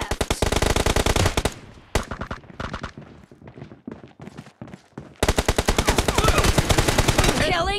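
PUBG team deathmatch gunfire with rapid automatic bursts, loud and close at the start and again from about 5 s, separated by a stretch of sparser, quieter shots. Gameplay voices are heard faintly under the shooting.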